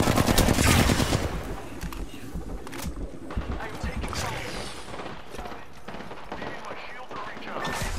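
Automatic weapon fire crackles in rapid bursts during a hectic Apex Legends firefight, loud at first and then continuing in choppy volleys beneath a voice, with clattering mechanical sounds and footstep-like thuds mixed in.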